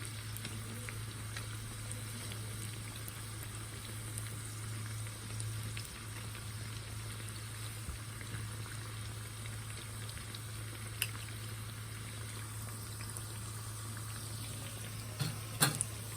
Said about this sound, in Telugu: వడలు చక్కగా గోల్డెన్ బ్రౌన్ కేగే వరకు గోల్డెన్ బ్రౌన్ వచ్చే వరకు వేయించుకోండి మాడకుండా చూసుకొని